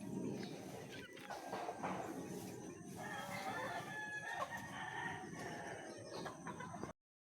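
Chickens cluck and a rooster crows on a farm, a busy and fairly distant mix of fowl calls over low background noise.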